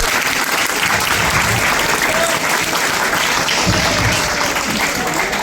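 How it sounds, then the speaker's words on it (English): Sustained, dense applause from a classroom audience of coaching students honoring a long-serving teacher on his farewell day, steady and loud throughout with no pause. "We need to applaud him."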